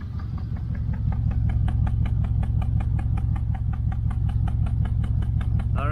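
A 1968 Chevelle Nomad engine idling with a steady, loud low rumble and rhythmic exhaust pulses, a loosely clamped exhaust adding faint repeated ticking over the throb, no talking.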